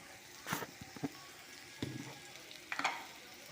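Food frying in a little oil being stirred, faint low sizzle broken by several distinct scraping and clattering stirring strokes at irregular intervals.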